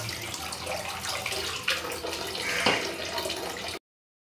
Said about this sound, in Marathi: 2 ते 3 वेळा पाण्याने स्वच्छ हिला धुवून घ्यायची आहे